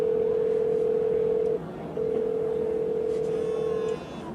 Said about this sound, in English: So it's making a phone call now